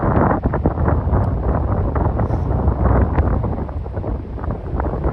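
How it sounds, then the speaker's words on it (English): Heavy wind buffets the microphone in a constant low roar on a freezing winter hike in the peaks, with rumbling gusts and no voices throughout. "It is super windy though"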